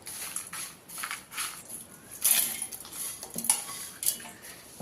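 Roasted lentils, tamarind, salt and turmeric are mixed in a metal vessel for curry leaf spice powder, making a series of faint scraping and clinking strokes in an irregular rhythm.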